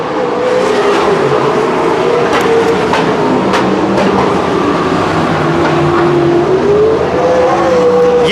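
Sprint cars race around the dirt oval at Calistoga Speedway, a continuous loud engine roar rising and falling in pitch as cars pass, steady and unbroken throughout.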